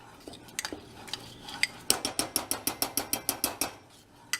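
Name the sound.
stirring brigadeiro mixture in a pot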